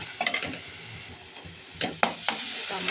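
Tomatoes and green chilies frying dry in a pan, a steady close sizzle with a few sharper bursts of crackle and stirring scrapes, no voices.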